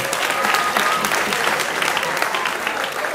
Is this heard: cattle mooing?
no